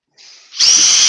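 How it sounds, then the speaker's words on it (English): A power drill bores a hole, first a lighter whine, then a loud steady high-pitched grinding as the bit bites in, close and continuous. "Might have to drill that hole a bit deeper."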